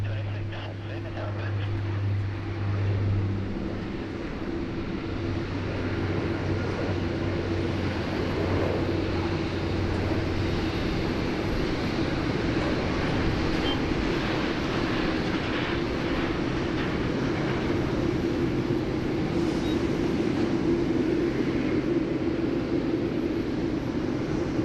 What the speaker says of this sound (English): Air India Flight 301 heading to New Delhi, taxiing behind QF63.